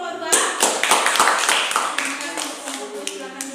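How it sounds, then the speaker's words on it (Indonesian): A classroom group claps for a student team after their presentation, a brief burst of dense, close applause that gradually thins out. "tepuk tangan untuk kelompok 2"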